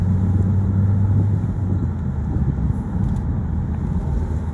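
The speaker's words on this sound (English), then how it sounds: "Now that is your hottest day of the year traffic report coming from Clacton to Colchester." Road traffic heading into Colchester from Clacton on the hottest day of the year in June 2021, a steady, loud, continuous rumble of passing vehicles with no talking.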